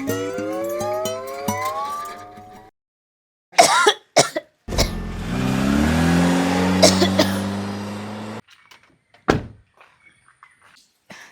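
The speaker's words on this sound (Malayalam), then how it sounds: "ചുമച്ചിട്ട് എനിക്ക് ഒരു രക്ഷയില്ല" Harsh, forceful coughing bursts from a person with a persistent cough, a few loud separate fits spaced across the scene, mixed with door thunks and a passing car, with no talk during it.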